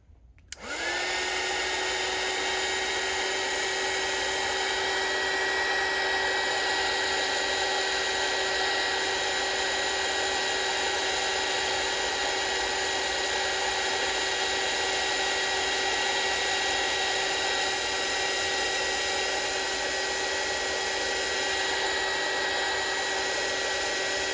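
A hair dryer runs steadily and loudly on freshly painted watercolor postcards, a constant whining blow with no break from start to finish.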